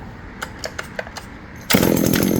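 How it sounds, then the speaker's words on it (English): An M & W 660 Pro-Duty chainsaw is pull-started: a few short rope-pull rasps, then the engine fires on half choke and roars loudly and steadily up close. "Let's make sure it starts again. Watch this. Watch this. Compression in. It's going to fire on half choke."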